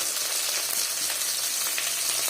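Cumin seeds go into hot oil while chicken curry is being cooked, and a steady, close, hissing sizzle follows, unbroken and with no voices over it.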